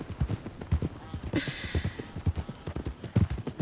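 Horse hooves clip-clopping steadily in the Red Dead Redemption 2 video game, an even walking rhythm of close, crisp hoof strikes over a light background hiss.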